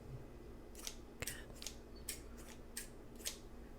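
Scissors snip slowly through the air during a whispered ASMR cord-cutting session, giving about six crisp, close metallic cuts at an even pace over a quiet background with no voices.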